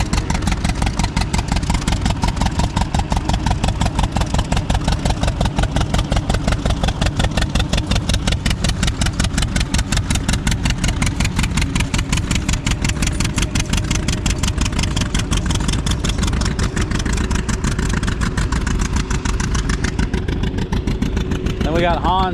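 An old engine at a threshing bee runs with a loud, steady, rapid chugging beat that continues throughout, close by and unbroken.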